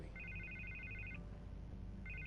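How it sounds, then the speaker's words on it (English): Telephone ringing in the Batman: The Telltale Series video game, an electronic trilling ring lasting about a second, a pause, then the next ring starting, over a low ambient hum. "I can't get the phone to stop ringing."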